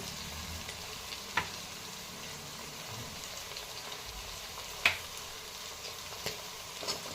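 Ginger, garlic, green chili and coriander paste sautéing in a pan with mixed vegetables, a steady soft sizzle throughout with a few sharp utensil taps standing out above it.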